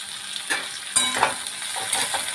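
Ridge gourd peel fries in oil in a pan, a bright close sizzle broken by quick scraping stir strokes.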